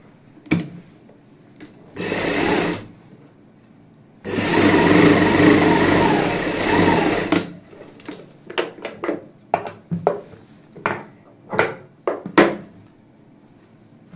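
Sewing machine running in two bursts, a short one and then a longer steady run, stitching folded box pleats on palazzo pants, followed by a string of sharp clicks and taps as the fabric is handled.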